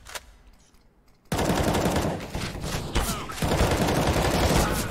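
Rapid automatic gunfire in a Counter-Strike match bursts in suddenly after a quiet start and continues as dense, loud sustained shooting.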